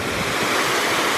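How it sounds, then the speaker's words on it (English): A waterfall at Cavagrande in Sicily pours as a steady, loud broadband rush of falling water, continuous and unvarying, with no voices over it. "Look, there's another waterfall."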